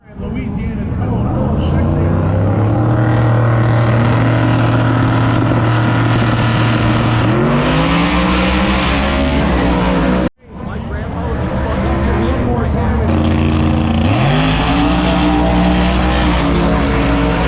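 A race car roars past at full throttle during a race, a loud, sustained engine wail with rising and falling pitch through two passes separated by a brief cut, under an announcer's commentary.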